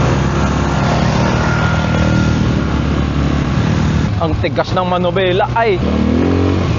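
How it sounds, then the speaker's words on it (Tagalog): An ATV engine revs and runs steadily while being ridden near Pundaquit, Zambales, with a continuous motor drone throughout and a voice speaking over it in the second half. "Kami po ay mag-ATV. Susubukan namin."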